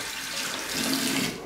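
Hot water gushes steadily from a tap, a continuous close hiss and splash with no talk.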